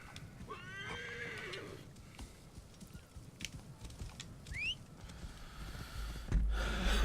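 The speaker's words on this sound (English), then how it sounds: "so we're going to have to take the horse." A horse whinnies twice over steady clip-clopping hooves, with outdoor ambience beneath, close and moderately loud, in the video game Assassin's Creed Origins.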